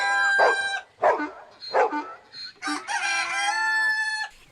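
One voice imitates a farmyard cacophony for the Bremen Town Musicians tale, braying like a donkey, barking, meowing and finishing with a long rooster crow, loud and close in quick succession.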